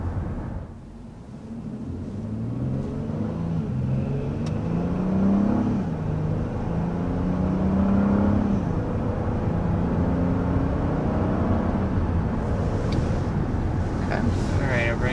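Steady low road rumble and tire hum inside a 2023 Honda Odyssey minivan cabin, constant and moderately loud with a brief dip near the start, and someone speaking over it.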